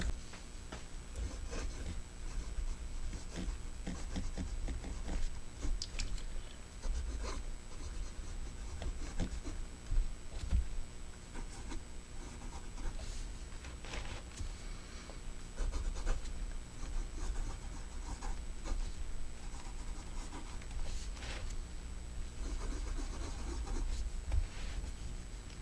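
Lanbitou 776 fountain pen nib gliding across paper in faint, continuous scratchy strokes with small pauses between words, close-up and quiet against a low room hum, no speech.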